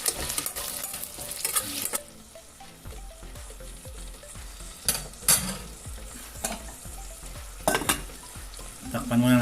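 Beef frying and sizzling in a pan while being stirred, close steady sizzle with sharp scrapes and clatters of the utensil against the pan, no talking.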